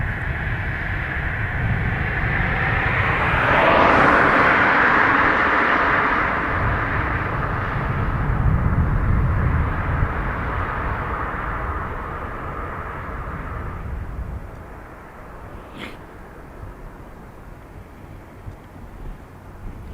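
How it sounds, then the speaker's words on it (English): A Ryanair airliner departing Dublin Airport for Venice roars past, building to a loud peak in the first seconds, then fades over about twelve seconds into quieter background, followed by a brief sharp click. "This is Ryanair to Venice."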